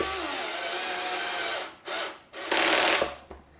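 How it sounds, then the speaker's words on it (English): An electric screwdriver on a low torque setting drives screws into a guitar body during a baritone conversion. It whirs in short bursts with pauses between them, and there is a brief louder burst near the end. "You hear the little click there as the screwdriver just shut itself off, because I've got it on quite a low torque setting"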